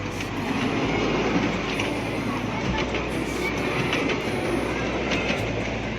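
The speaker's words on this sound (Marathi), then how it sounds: "अशी ट्रेन आहे" A small fairground ride train at a village jatra fair in Dahisar runs along its rails with a steady rumbling clatter and rhythmic wheel clicks, loud and close throughout.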